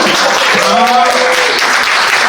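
Audience applause at a youth talk show, a steady wash of clapping under a speaking voice with a brief vocal exclamation at the center.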